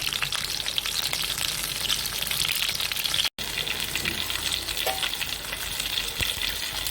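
Pomfret fish frying in oil in a pan, giving a loud, constant, close sizzle and crackle that cuts out for a brief moment midway before resuming.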